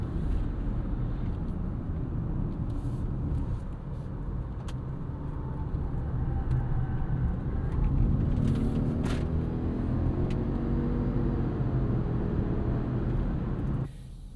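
A 2026 Subaru Outback XT turbo boxer wagon rounds a corner in normal mode with traction control on, giving a steady low engine and road rumble that swells slightly partway through and stays continuous, with no talking.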